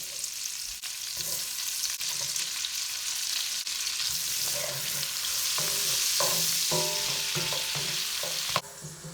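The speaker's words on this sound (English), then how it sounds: "So now I'm going to saute up my onion." Onion sautéing in melted butter in a skillet, a continuous soft sizzle with occasional light utensil taps and stirs, close and alone without speech.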